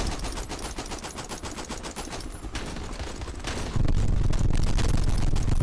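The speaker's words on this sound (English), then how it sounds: "I'm gonna do a strafing run." Sustained machine-gun strafing run in a VR sniper co-op shooter game, a dense, loud rattle of rapid automatic fire continuing throughout, growing heavier and booming near the end, with no voices over it.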